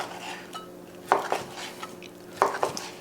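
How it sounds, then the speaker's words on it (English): Two sharp knife strikes against a board with softer clinks of utensils, close up and quiet between hits. "Chop these up in nice big pieces."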